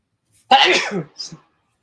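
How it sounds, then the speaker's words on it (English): One quick, forceful sneeze at close range, trailing into a short gasp-like tail, otherwise quiet. "Sneeze. Times two."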